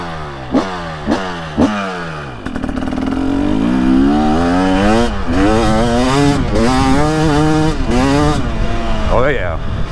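A 2023-24 KTM 300SX two-stroke dirt bike with an FMF Powercore silencer blips its throttle three times, then revs up and down repeatedly in rising, wavering bursts, loud and close, while people talk over it.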